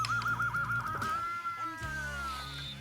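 Electric guitar feedback driven by a neck sustainer, a sustained singing tone that wavers and then holds steady, with a low amplifier hum underneath, moderately loud and without speech.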